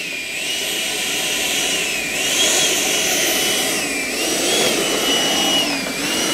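A Freewing Avanti S 80mm electric ducted fan model jet flies overhead, its high whining fan sweeping up and down in pitch as it passes and turns, loud and continuous.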